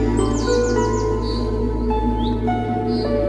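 Short bird chirps and rising tweets sound over a steady, loud background drone, a few quick calls scattered through.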